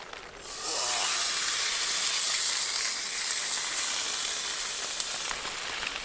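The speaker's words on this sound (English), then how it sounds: "just want it to sear on a relatively high heat" A marbled steak sears in a hot pan with garlic over high heat on a wood stove in a snowy forest tent, giving a loud, steady, hissing sizzle that swells up early and keeps going without a break.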